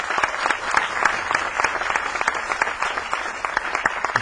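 Theater audience at an Andrew McMahon Q&A in New York applauding two guests, brisk close-sounding claps forming a lively, uneven burst that carries throughout.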